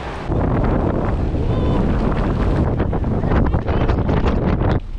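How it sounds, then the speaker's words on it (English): Blustery wind on the Oregon coast buffets the microphone in a loud, continuous, roaring rumble that lasts almost the whole time and drops away at the very end. "It's a bit blustery out there."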